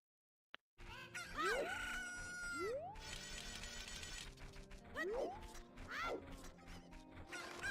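Chickens from The Legend of Zelda: Ocarina of Time Randomizer, with repeated squawking clucks and rising crowing-like calls over busy game sound effects. Occasional crashes can be heard, and the sound is fairly prominent after a brief silence.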